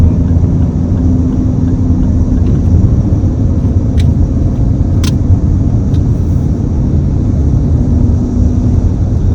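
Lexus RX 500h F Sport SUV cruising in sport mode at speed, a steady loud drone of road and engine noise inside the cabin with faint ticks, no voices.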